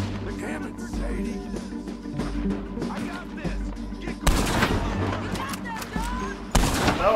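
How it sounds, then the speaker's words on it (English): Cannon fire in the video game Red Dead Redemption 2: two loud, booming blasts, the second shortly after the first, break through a steady bed of in-game background sound and voices. "The cannons, Sadie."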